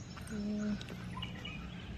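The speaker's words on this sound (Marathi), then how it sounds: "पक्षी कसे येत आहे बघच ना ते खायला" Faint bird chirps and calls scattered over a quiet outdoor background, with one clear sustained tone early on.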